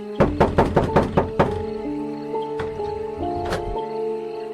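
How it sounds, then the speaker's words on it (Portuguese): Knocking on a door: a quick loud run of about six hollow knocks, then a single knock and another later, with a low resonant tone ringing under them. "Batem à porta de Pedro."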